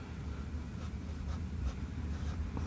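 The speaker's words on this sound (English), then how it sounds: "Okay, so we'll write this down." Pen scratching a paint colour name onto an artist's watercolour palette: brief, soft strokes, close and quiet, with no voices.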